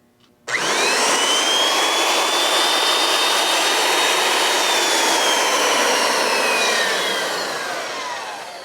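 A boring machine spins up to 250 on an arbor press restoration part, a loud, steady whine with a rising tone at start-up that holds for several seconds and then slowly fades as it winds down, with no talk.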